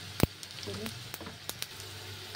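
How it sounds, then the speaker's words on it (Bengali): Whole spices (bay leaf, dried red chilli, cinnamon piece, green cardamom and cumin seeds) frying in hot oil, a faint, steady sizzle with a sharp clink near the start and a few light taps. "ফোড়নটা একটু ভেজে নেবো।"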